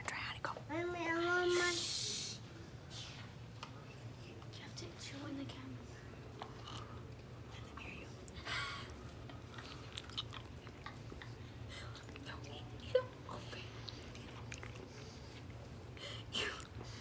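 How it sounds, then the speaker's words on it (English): Someone chews honeycomb close to the microphone, with soft sticky, wet chewing and small crunches running through a long stretch, mixed with quiet whispering and breathy speech. "I was chewing this for a really long time"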